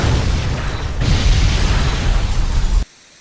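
A loud explosion in an anime episode, a dense roaring blast that rumbles on for nearly three seconds and then cuts off abruptly into silence.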